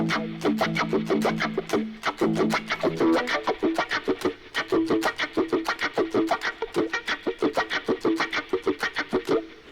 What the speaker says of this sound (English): you can hear the hiss because it's changing the tone